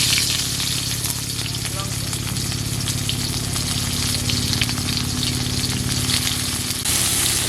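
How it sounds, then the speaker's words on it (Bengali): Onion and ginger frying in hot oil for a Bengali prawn and kochur loti dish, a constant loud sizzle with a low steady hum underneath and a short dip near the end. "পেঁয়াজ আদা ভাজা হয়ে গেছে"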